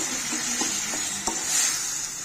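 Urad dal fries in a pan as it is stirred, with a steady hiss of frying under a few soft scraping strokes of the spoon close by.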